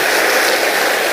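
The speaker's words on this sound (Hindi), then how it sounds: "एक बार जोरदार ताली बजाकर स्वागत कीजिए" A dense burst of crowd applause at a political rally in Siwan welcoming Bihar's chief minister, loud, steady and continuous.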